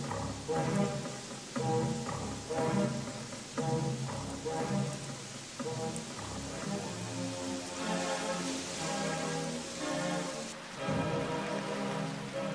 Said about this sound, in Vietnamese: những tiếng ầm ĩ phát ra từ phía những cơn mưa liên tục như trút nước